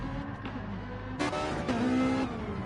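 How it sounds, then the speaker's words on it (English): Porsche race car engine in Gran Turismo 7 at Watkins Glen, a steady engine drone with tonal whine that rises into louder revving bursts partway through, heard alone without talk. "Oh, I can hear an engine."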